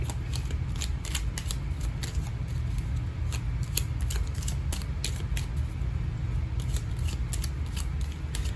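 Steady crisp riffling and flicking of tarot cards being shuffled, close up and continuous, over a low background hum.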